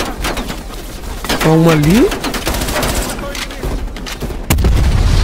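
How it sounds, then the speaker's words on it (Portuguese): Mounted turret gunfire in Call of Duty Cold War, heard as a fast burst of sharp shots with one heavier blast near the end, while someone talks over the shooting. "tem uma torreta montada ali, é isso? Porque olha como que tá vindo os tiros aí"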